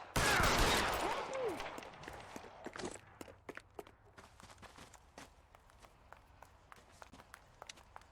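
Gunfire in the game L.A. Noire, a loud burst of noise at the start, then scattered sharp shots and clacking footsteps fading into sparse, quieter cracks over the rest.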